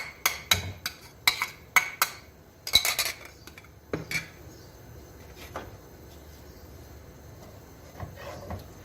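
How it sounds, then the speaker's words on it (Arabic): Onions frying in oil in a pan over high heat, stirred with a utensil: a run of sharp clinks and scrapes against the pan, then softer frying noise. "راح نقلب البصل علين يتحمر معانا تماما زي بصل الكشري"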